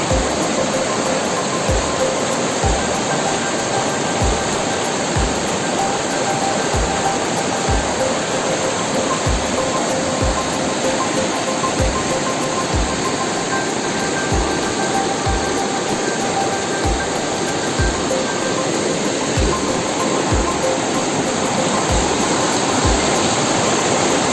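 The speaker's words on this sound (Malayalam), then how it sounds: "വെള്ളച്ചാട്ടം" A powerful waterfall roars continuously, a dense, even rush of falling water that fills the whole scene without pause.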